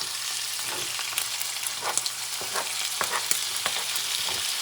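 Squid frying in a hot pan for arròs negre, a steady close sizzle with scattered pops and stirring scrapes throughout.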